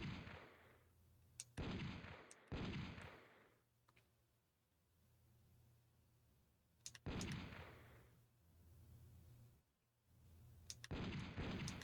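Test-fire gunshots from a light-gun video game: several loud, sharp booming shots in short bursts with quiet gaps between, each blast decaying with a rumbling tail.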